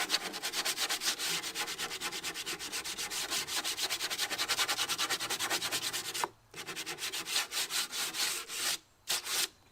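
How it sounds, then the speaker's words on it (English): Sandpaper is rubbed by hand along the edge of a wooden porch column in quick, rhythmic back-and-forth strokes, close and fairly quiet, with a few brief pauses near the end. "Take a little sandpaper and just"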